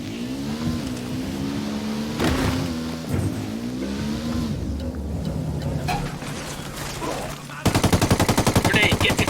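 In the Ghost Recon Wildlands shooter game, a vehicle engine drones steadily for several seconds before a rapid, loud burst of automatic gunfire rattles out near the end.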